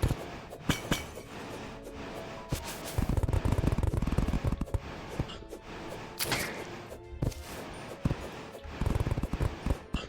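A drill bores through blocks in the Terraria video game, giving dense rapid grinding bursts with crunching block-break impacts that come in loud clustered waves.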